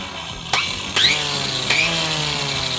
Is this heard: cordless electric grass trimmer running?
yes